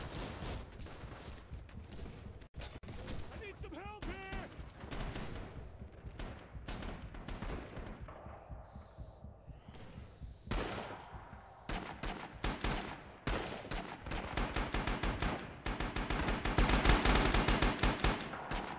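Rapid gunfire bursts in a multiplayer first-person shooter match, including a set-up machine gun, crack and rattle in repeated volleys across the whole stretch, loud and dense with scattered impacts, growing heavier toward the end.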